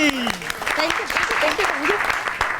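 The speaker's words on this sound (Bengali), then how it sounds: "টম টম একটা জোরে হাততালি" Loud applause from a family audience at a home celebration, greeting a small child about to recite a poem; dense clapping fills the moment, with a voice speaking and some sliding tonal sounds over it.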